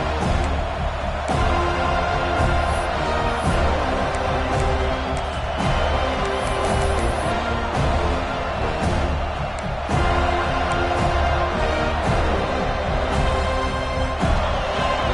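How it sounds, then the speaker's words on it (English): A large Florida Gators football stadium crowd roars continuously, a dense wash of cheering that stays loud throughout. "Listen to the crowd energy here in the early going."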